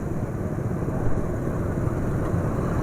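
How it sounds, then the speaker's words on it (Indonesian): A vehicle engine running on Lubrigold 5W40 synthetic oil, now rougher with more vibration, gives a steady, loud low rumble with an even drone and no talk over it. "Iya, suara mesin juga sudah lebih kasar"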